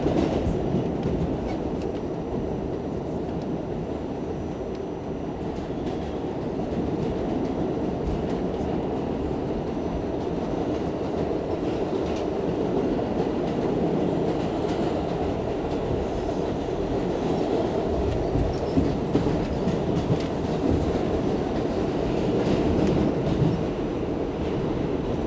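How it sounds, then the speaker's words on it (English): Inside a moving New York City subway train: a constant loud rumble with rattling, clattering wheels and occasional squeals, continuing throughout without talk. "Very bumpy and noisy ride, if you can tell."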